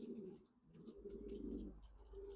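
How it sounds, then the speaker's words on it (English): Young pigeons coo softly near their loft, with low, rolling murmurs that rise and fall close by at a faint level. "Now they're coming over to the tripod now and having a look at the camera."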